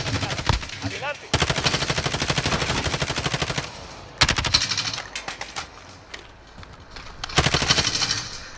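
Rapid automatic gunfire in the video game Call of Duty: Modern Warfare, loud sustained bursts broken by short pauses, with faint voices of players underneath.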